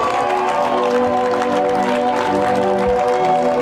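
A church congregation applauds as an offering of acclamation, loud continuous clapping and crowd noise over sustained organ or keyboard tones, with no let-up across the stretch.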